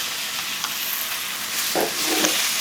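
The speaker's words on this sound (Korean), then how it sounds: "식용유를 좀 넉넉히 두르고 썰어 놓은 양파 넣고요. 채소 아주 같이 넣어줍니다." Sliced onions and green onions frying in a generous amount of cooking oil over high heat, a close steady sizzle with a couple of scraping stirs of a spatula toward the end, no voices.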